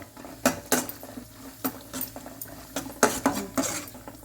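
Cashews roasting in ghee in a pan, heard as clinks and scrapes of a spoon stirring against metal in irregular bursts over a soft background sizzle.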